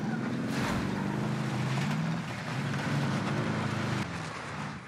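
A car drives in the video game Call of Duty: Warzone, a steady engine drone with a rushing, wind-like hiss that keeps going throughout and dips slightly toward the end.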